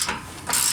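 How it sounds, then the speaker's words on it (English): A ratchet tightening exhaust clamp bolts, its clicking pawl sounding as short close bursts, with a stronger second burst near the end. "Then you take your ratchet, make sure you put it tight, put it on, and start tightening down."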